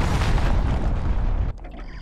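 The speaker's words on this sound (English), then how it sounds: "Enemy cruise missile incoming" Enemy cruise missile explosion in Call of Duty: Modern Warfare, a loud, close, sustained booming roar that cuts off abruptly and leaves a quieter rumbling tail.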